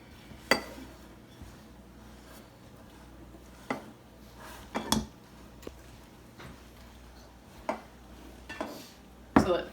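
Melted chocolate being mixed into dry ingredients in a bowl: intermittent sharp clinks and scrapes of a utensil against the bowl, spaced irregularly over a quiet background, with a louder knock near the end.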